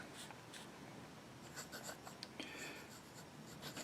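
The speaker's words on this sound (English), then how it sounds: "You don't need a lot of pressure to have the ink flow onto the paper." A Delta fountain pen nib scratches softly across paper in quiet, irregular strokes and short scribbles, faint and close against a low background hum.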